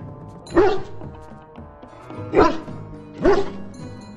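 A hound in Dragon Age: Origins gives three separate barks, spaced a second or two apart, each a short mid-pitched bow-wow over a quiet game backdrop.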